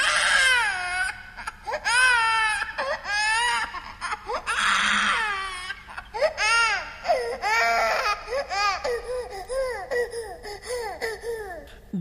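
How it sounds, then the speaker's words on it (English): An infant wails close and loud in continuous sobbing bursts, broken by short gasping breaths and softer whimpers toward the end. "crying"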